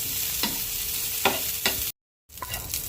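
Pulao ingredients fry lightly in a pan with a steady soft sizzle, broken by a few scraping stirs and a brief silent gap, in a Bengali home kitchen.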